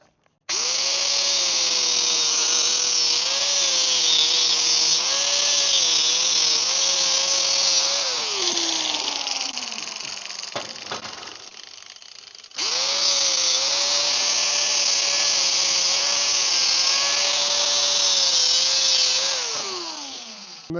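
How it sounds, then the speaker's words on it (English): An angle grinder with a cutting blade trims metal on a brolga bird sculpture, a loud steady high whine that drops off and winds down, pauses briefly, then starts up again for a second long cut and spins down. "get out the trusty angle grinder with the cutting blade, and I'll do that right now"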